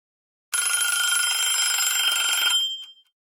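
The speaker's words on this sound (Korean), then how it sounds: "전화가 울렸습니다." A telephone bell rings in one continuous, loud, bright burst of about two seconds, heard alone in a quiet room, then cuts off with a brief faint ring tail.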